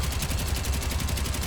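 B-17 bomber gunners fire machine guns in a rapid, continuous burst of evenly spaced shots, loud and close, with no pause across the stretch.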